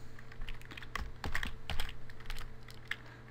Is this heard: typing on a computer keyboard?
yes